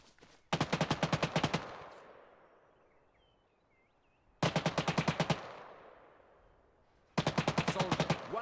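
Gunfire from automatic weapons in the Antistasi Chernarus video game, three loud rapid bursts of evenly spaced shots, each lasting about a second, separated by quiet gaps with a fading echo.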